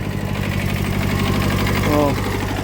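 A Japanese tractor engine runs near a potato plot with a steady, throbbing mid-low drone and a regular pulsing beat, loud and close.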